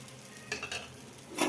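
Ridge gourd dosa batter sizzles on a hot pan, a quiet hiss marked by a couple of soft scraping or stirring touches and a brighter flare of frying at the end.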